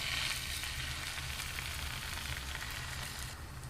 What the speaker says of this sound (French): Je mélange les œufs et je vais les verser doucement.